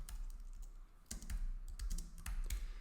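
Quiet clicking of a computer keyboard while writing async API test code, a quick run of keystrokes heard close and alone.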